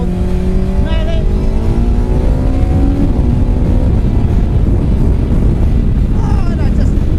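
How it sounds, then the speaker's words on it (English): A Hayabusa-engined MK Indy R car accelerates hard at full throttle, a loud, close engine roar with rising tones through the gears and heavy wind rush, recorded from the cockpit. "So you bury the throttle"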